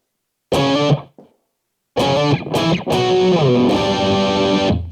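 A distorted electric guitar plays the verse riff of a song: one short chord burst, a pause, then a run of sustained, driven chords that ring out on their own.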